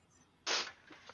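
A single short, breathy sneeze, fairly close and moderately loud, followed by faint rustling.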